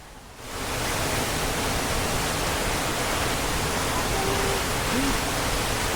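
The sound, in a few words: waterfall near Bukoba, Tanzania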